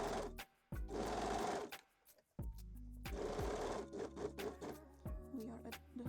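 A sewing machine stitches stretched elastic onto a bikini top in two long, steady whirring runs separated by a short pause, with a softer stop-and-start burst at the end.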